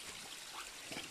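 Faint, close trickling of the Wararu river near its source in a forest reserve, a soft steady wash of shallow water with no other sounds.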